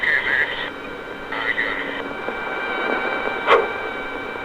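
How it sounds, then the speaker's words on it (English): A helicopter fires a single rocket from its tubes, heard as one short, sharp burst partway through a thin, hissy, radio-like recording with faint static and tones around it. "That sound you just heard was the one and only rocket that came out of my tubes then."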